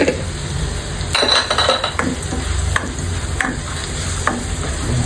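Bay leaf, onions, garlic and cracked pepper sautéing in a pan for chicken afritada, a steady close sizzle with a utensil scraping and clinking against the pan, no voices.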